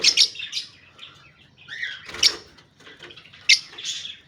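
A growing parrot chick gives short, shrill chirps and squeaks, a few sharp close calls spaced irregularly among softer rustles and chatter, fairly quiet overall.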